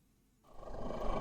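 A pet named Shay lets out a low growl that rises suddenly partway through and holds rough and rumbling to the end, fairly close and moderately loud, with no talking.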